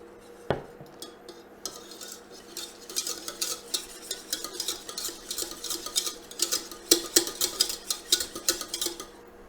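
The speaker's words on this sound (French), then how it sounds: "Et maintenant, on rajoute le lait petit à petit." Cold milk goes little by little into a hot flour roux for béchamel in mac and cheese, whisked with brisk, rhythmic scraping clicks of utensil against pan that quicken after a single sharp knock.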